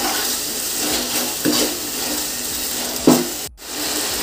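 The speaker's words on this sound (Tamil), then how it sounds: "நல்லா மிக்ஸ் பண்ணி விட்டுக்கோங்க." Tomatoes and rock salt being stirred in a cooking pan for chicken dum biryani, soft scraping and sizzling with a couple of light utensil knocks against the pan.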